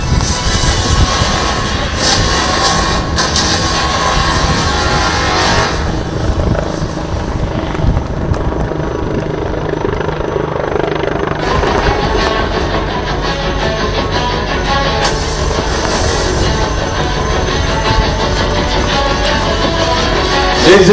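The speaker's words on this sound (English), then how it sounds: "here we have the light utility helicopter right in front of us performing a unique helicopter maneuver" A HAL Light Utility Helicopter flies a display maneuver at the Aero India air show, its loud rotor chop and turbine roar sustained throughout, swelling and shifting as it moves in front of the crowd.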